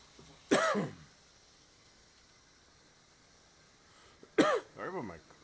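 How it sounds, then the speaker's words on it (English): A man coughs twice, close to the mic: a sharp, throaty burst, a long quiet pause, then a second cough followed by a brief throat-clearing rasp. "Sorry about my coughing."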